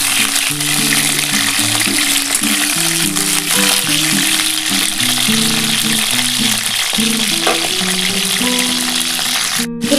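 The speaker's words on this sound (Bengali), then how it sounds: "একটু হালকা করে ভেজে নিই বন্ধুরা, ভেজে আমি তুলে নিচ্ছি" Cauliflower pieces fry in white oil with a bright, steady sizzle and crackle, close and continuous, while a faint melodic background music plays underneath throughout.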